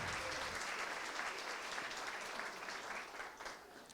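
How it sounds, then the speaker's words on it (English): Steady, fairly faint applause from a crowd at a real estate association's general membership meeting, a dense continuous wash of clapping that tapers slightly toward the end. "Let's all give them a round of applause, please."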